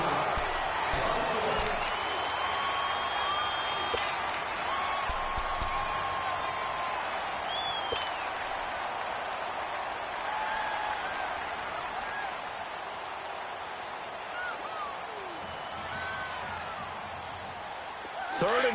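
A stadium crowd at an American football game roars steadily on a third down, urging on the defense, a dense, continuous wall of cheering and noise that holds for the whole stretch while a commentator talks over it.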